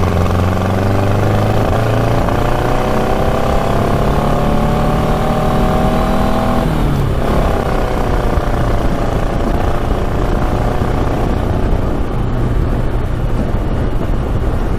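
A street-legal 1967 Volkswagen dune buggy engine drones loud and close, its pitch climbing steadily, dropping sharply at a gear change, then climbing again as it revs under continuous rumble and wind.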